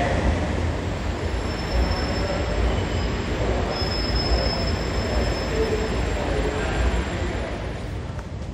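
The Argo Dwipangga passenger train runs on the rails with a steady loud rumble of wheels and carriages, with a thin high wheel squeal coming and going throughout.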